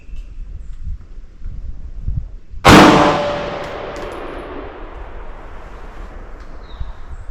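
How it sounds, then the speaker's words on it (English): A single loud AR-15 rifle shot cracks out on a shooting range, with a sharp attack and a long ringing tail that slowly decays over several seconds. "So let's shoot another shot just to see if it repeats."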